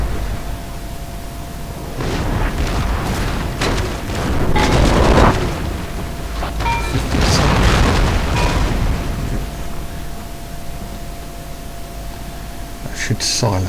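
Artillery cannons firing in a siege strategy game set at Warsaw in 1704, a run of deep booms and bursts rolling over several seconds against a constant noisy battle bed, with voices talking.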